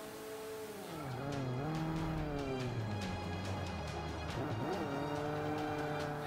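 Race car engine in Forza Motorsport 5, loud and close, revving up and down through gear changes with tires squealing, continuous with no voice.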